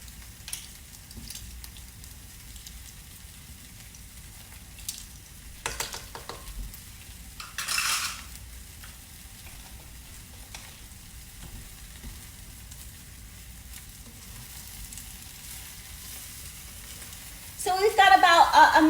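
Soft, steady sizzle of Brussels sprouts sautéing in a pan, faint for most of the stretch with a few clatters and scrapes, then a loud burst of hissing near the end.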